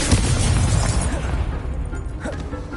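Confringo blasting spell from Hogwarts Legacy going off as a loud, rumbling burst that slowly decays over nearly three seconds, with crackling debris and faint game voices underneath.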